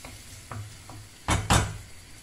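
Onions and carrots sizzling softly in a frying pan while being stirred, with a few light scrapes and two louder stirring strokes near the end, close and without talk.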